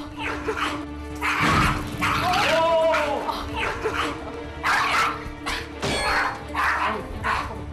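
A fearful, aggressive small dog indoors barks repeatedly in sharp, close, loud bursts mixed with yips and whimpers, while people talk over it.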